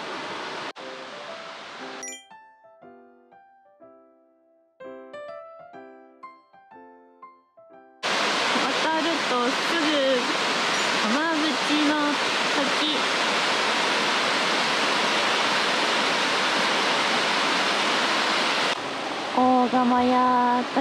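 Loud, steady roar of Kamabuchi Falls in Hanamaki, Iwate, Japan, in autumn, rushing nearby, following a quieter stretch with tonal chimes, and fading into softer tones near the end.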